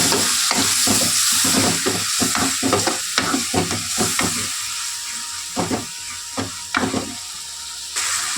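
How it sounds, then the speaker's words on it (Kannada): Spices with turmeric and garam masala fry in a pan, a steady sizzle with repeated scraping stirs of a spatula, close and continuous, no talking. "ಇವೆಲ್ಲ ಹಾಕಿಬಿಟ್ಟು ಚೆನ್ನಾಗಿ ಫ್ರೈ ಮಾಡ್ಕೊಳ್ಳೋಣ"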